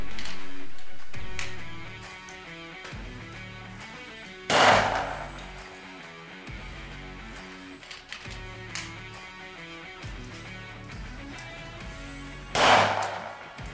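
Loud gunshots from a PKM machine gun ring out at a firing test, two sharp heavy blasts spaced well apart over a steady musical background.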